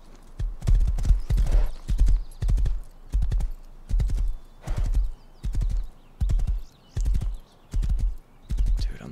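Horse hooves clip-clopping in a survival video game, a steady even rhythm of about one stride per second, each step a cluster of sharp clacks over soft ground noise, fairly close and alone.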